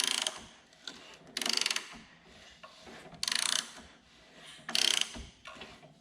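A 1962 dune buggy engine that has sat abandoned is turned over by hand, giving repeated rasping, ratcheting mechanical scrapes and clicks in uneven bursts, close and moderately quiet.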